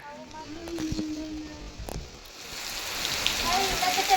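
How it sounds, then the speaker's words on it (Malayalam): Steady rain hisses throughout on a misty hilltop, growing slightly louder toward the end, with a voice speaking briefly over it. "മഴ പെയ്യുന്നുണ്ട് കേട്ടോ"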